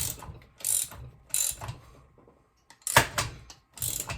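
A ratchet wrench loosening the clutch lock nut on a Pioneer P60 chainsaw: several close bursts of rapid clicking, separated by short pauses, with no talking.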